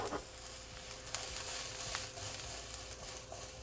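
Potatoes and broccoli sautéing in a pan give a steady, close sizzle with soft crackle and occasional light taps, continuous throughout with no talking.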